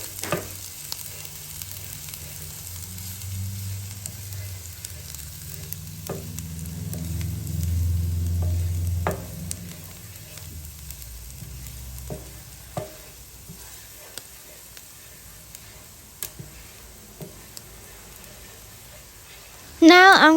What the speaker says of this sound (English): I'll add in my oil again and a pinch of minced garlic, and I will stir that around until the heat turns up